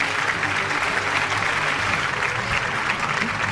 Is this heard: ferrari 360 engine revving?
no